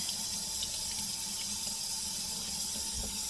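Water pours steadily from a tap onto cloths in a continuous rushing hiss, close by, with faint splashes and clinks underneath.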